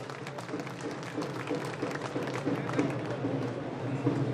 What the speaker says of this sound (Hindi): एक बार पूरा सदन दोनों हाथ उठाकर जोरदार तालियां बजा के अभिवादन करें